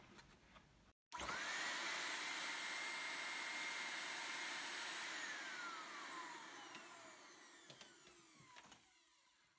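A Henry vacuum cleaner switches on with a sudden start and runs with a loud, steady whine and rising motor tone, then fades slightly before cutting off near the end.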